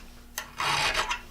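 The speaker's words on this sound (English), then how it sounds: "So when I'm running this file through there, the file doesn't hit" A hand file rasps across an Irwin or Jennings style auger bit held in a fixture, a short tap followed by two or three close, gritty strokes.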